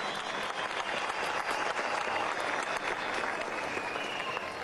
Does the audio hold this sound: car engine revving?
no